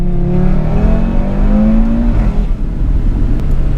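A 2018 Audi RS3 engine, about 510 horsepower, revs hard and loud, pitch climbing steadily then dropping off, with a continuous roaring exhaust drone throughout.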